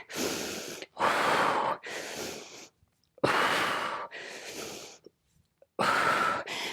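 Heavy, audible breathing from someone mid-workout during lower-body power and strength training, with loud gasping exhales and snorts in bursts separated by short silent pauses, close to the mic.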